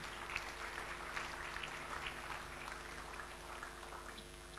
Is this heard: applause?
yes